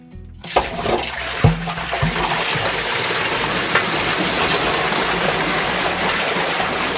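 Water gushes out of the first chamber of a pond filter system for a 100,000-litre garden pond, starting abruptly with a couple of splashy thumps and then settling into a loud, continuous rushing flow.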